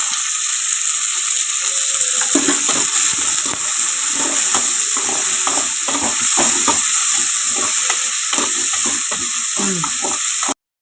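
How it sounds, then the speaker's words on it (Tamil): Onions, tomatoes and green chilies sauté in a pan for a chicken gravy, making a loud, continuous close-up sizzle broken by repeated stirring scrapes and clacks, with no one talking. "தக்காளி போட்டுக்கலாம். கூடவே பச்சை மிளகாவும் போட்டு வதக்கிக்கலாம்."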